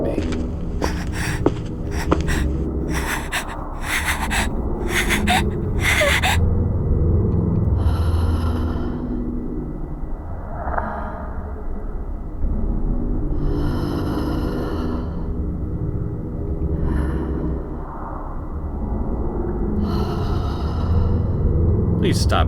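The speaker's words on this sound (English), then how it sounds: "Please stop breathing in my ear." Heavy, close breathing in the horror game Corpse Party: slow, rasping breaths and sighs repeating every few seconds right at the ear, over a low dark ambient drone, with a brief clatter of sharp noises at the start.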